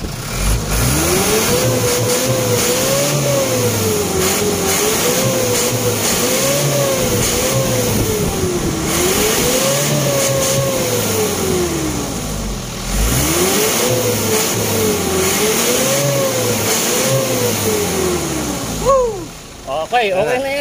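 A car engine with AMG additive mixed into it revs up and down in repeated rising and falling swells, loud and close, with a voice talking over it near the end.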